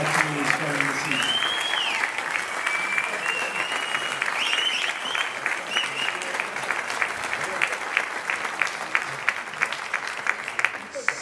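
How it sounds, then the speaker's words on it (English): A Hall of Fame induction evening audience gives sustained, steady applause for its athletic inductees, dense clapping filling the room at an even level, with occasional louder claps, for over ten seconds and no talk on top. "can we have one more big round of applause for all of our inductees from this evening"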